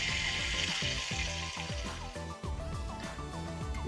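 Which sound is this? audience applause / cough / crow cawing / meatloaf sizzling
meatloaf sizzling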